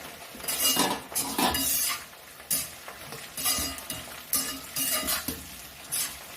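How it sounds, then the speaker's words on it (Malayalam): Onions sautéing in a pan, stirred with a utensil in repeated scraping, clinking strokes over a soft steady sizzle, close and fairly loud with short pauses between bursts. "ആദ്യം നമുക്ക് സവോള ഒന്ന് വരച്ചെടുക്കാം"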